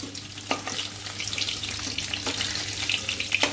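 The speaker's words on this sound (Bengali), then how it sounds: "পনিরটা খুব বেশি ভাজবো না ঠিক এরকম একটু হালকা ভাজা হলে পনিরটা আমি তুলে নিচ্ছি" Paneer cubes lightly frying in hot oil give a steady, close sizzle with small pops and bursts of crackle running through the whole stretch, no talk over it.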